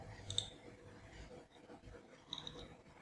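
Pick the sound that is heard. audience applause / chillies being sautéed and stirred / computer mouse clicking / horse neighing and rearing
computer mouse clicking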